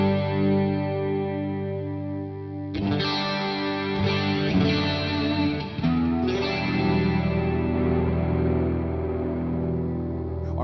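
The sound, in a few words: distorted guitar through Headrush amp modeler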